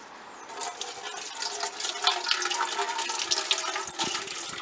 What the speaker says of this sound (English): I'm emptying this into the bucket so it doesn't go anywhere it's not supposed to.